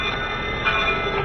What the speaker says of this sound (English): They're a test train to make sure they're roadworthy.